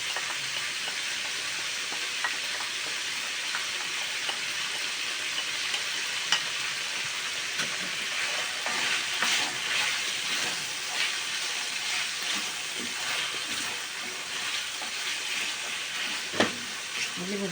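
Beef liver with garlic frying in a pan, a steady close sizzle with occasional pops and stirring scrapes, no talk.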